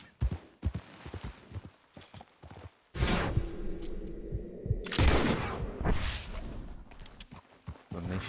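Horse hooves in the Western game Red Dead Redemption 2: scattered clip-clop steps at first, then a louder run of hoofbeats mixed with rushing movement and ambient game noise, with no one talking.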